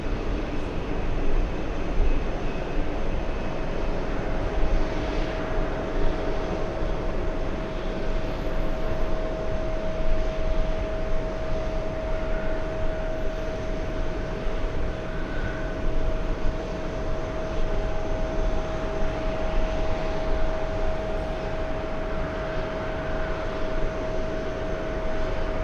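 An Etihad airliner arriving from Abu Dhabi to land, a steady broadband jet roar with a sustained whine, loud and continuous throughout without any talking.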